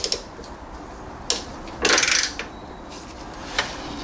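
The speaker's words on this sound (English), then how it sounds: "So I'm just using a universal joint" Tool clicks and a brief ratcheting burst on a ratchet with a universal joint, reaching through the subframe to an Audi oil filter; a few sharp isolated clicks, then a dense rattle near the middle, close and fairly quiet, with no talk.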